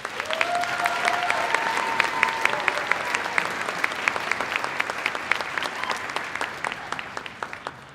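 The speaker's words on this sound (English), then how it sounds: "Please help me welcome to the stage with warm applause" Warm, sustained applause from a graduation ceremony audience at a college winter commencement, a loud, dense clapping crowd with a brief held tone sounding underneath early on.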